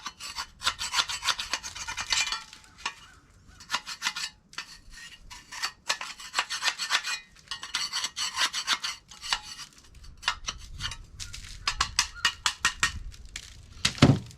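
A scraper rasps repeatedly against the fan shaft of a HeatMaster G-Series stove, in close, gritty bursts of scraping with short pauses between strokes and no talking.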